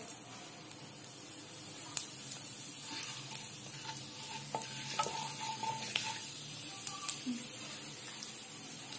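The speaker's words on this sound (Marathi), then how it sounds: "1 मोठा चमचा तूप घेतलंय मी। त्याच्यात जिरं टाकलंय" Cumin seeds in a spoonful of homemade ghee sizzling in a pan, a constant soft frying hiss broken by light scrapes and taps of a spoon as the seeds are stirred, close and without speech.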